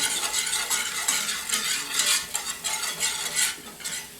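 A utensil stirs food browning in butter in a pot for chicken pot pie, making repeated scraping and clinking strokes over a soft sizzle, close and fairly loud, with no speech.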